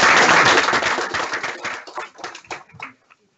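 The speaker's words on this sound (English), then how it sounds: "I'd like to give you a round of applause for coming today." Audience at a health commissioning group's annual general meeting clapping together, a loud burst of applause that thins into scattered individual claps and fades out.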